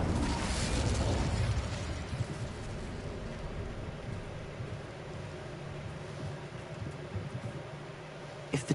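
An Incendio fire spell cast in Hogwarts Legacy bursts out with a loud whooshing blast, followed by a long crackling, hissing roar of flame that slowly fades, with no one speaking.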